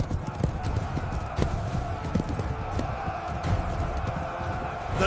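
Horses gallop with hooves clip-clopping in quick rhythm and occasional whinnies, part of a battle sound effect for ancient cavalry at Cannae, with a distant crowd-like din under a narrating voice.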